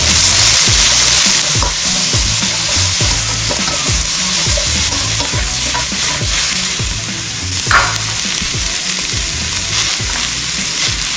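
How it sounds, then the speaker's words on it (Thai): Brussels sprouts and fried pork are stir-fried over high heat in oyster sauce, giving a steady loud sizzle with rapid, rhythmic spatula scrapes against the pan throughout, and no voices. "ผัดไฟแรงๆเลยนะครับ"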